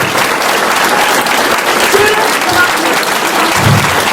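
An audience gives loud, dense, sustained applause for Lindsey Ess, the speaker in a Donate Life Month series, as a steady wash of many clapping hands close by.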